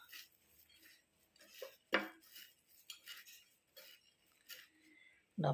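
A spoon stirs mashed banana into a homemade afternoon snack in a pan, making soft scrapes and scattered metallic clinks against the pan in irregular bursts, close by and fairly quiet.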